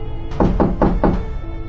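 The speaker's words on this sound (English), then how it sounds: "only to wake up to the knocking again" Four firm knocks on a door in an animated horror story, evenly spaced and loud, with a low hollow thud on each strike over a quiet background hum.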